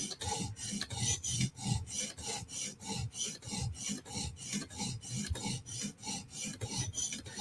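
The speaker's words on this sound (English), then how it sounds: "we're just going to grind away at this little stubborn spot on the edge" Steady rhythmic rasping of an abrasive stroked along a blade edge during sharpening, repeated back-and-forth passes about once per second, close and fairly quiet, with no talk.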